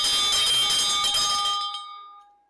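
A hand bell rings with a bright metallic clang that shimmers for over a second and then fades away into silence.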